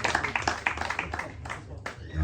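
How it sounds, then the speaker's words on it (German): Restrained, scattered clapping from a small audience at a literary reading, quiet and brief, with voices talking over and between the claps. "Ja, verhaltener Applaus"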